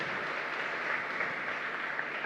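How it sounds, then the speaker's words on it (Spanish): Steady congregational applause fills a parish church during a Catholic Mass, a continuous dense patter of many hands at even loudness with no voices over it. "Fuerte aplauso entonces para el Señor"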